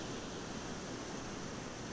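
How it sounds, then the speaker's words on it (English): Fall Creek's waterfall at Ithaca Falls, the biggest in the area by volume and breadth, roars as a steady broadband rush of falling water, close and constant with no voices. "And this is really the biggest waterfall by volume"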